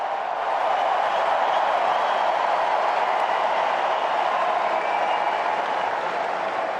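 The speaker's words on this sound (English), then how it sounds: "Here comes the crowd." A tennis stadium crowd at the US Open applauds in a steady, dense wash of clapping that holds loud and even throughout, with no pauses.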